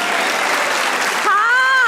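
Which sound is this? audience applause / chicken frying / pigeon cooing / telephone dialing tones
audience applause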